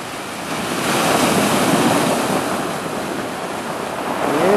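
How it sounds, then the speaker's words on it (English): Big storm waves from Hurricane Sandy surge and crash on the Sakonnet shore. A loud, continuous roar of surf with heavy wind buffeting the microphone, close and building, with no voices. "Oh man, look at that wave."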